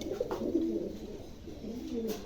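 A pair of nasal tumbler pigeons coo up close, soft throaty rolling calls repeating over a quiet background.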